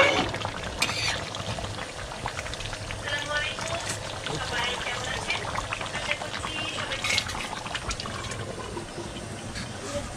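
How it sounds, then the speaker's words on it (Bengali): A spoon stirs Bengali beef curry in a cooking pot, making a steady wet scraping and bubbling sound at close range while people talk over it. "নেড়ে দিলাম একটু।"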